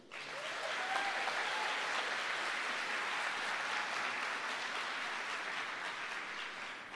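Audience applause at a Catholic camp gathering, a steady, fairly distant wash of many hands clapping that holds evenly from start to finish.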